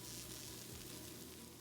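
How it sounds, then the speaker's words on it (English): Cheddar bacon dog treats sizzle on a tray straight out of the oven, a faint, steady crackling hiss with no talk. "Do you hear them sizzling?"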